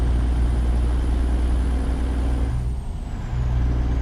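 An old 379 truck rumbles along with a constant deep engine drone and road noise, a long faint hiss carrying above it before the sound dips briefly near the end.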